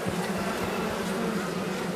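Honeybees buzz in a steady, dense drone inside an open hive during summer work on the brood frames, close and continuous with no voices.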